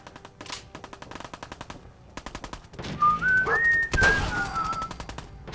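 Rapid automatic gunfire in the Fallout 4 video game comes in steady bursts of evenly spaced loud shots. A rising whistle-like tone sounds briefly in the middle, and there is no talking.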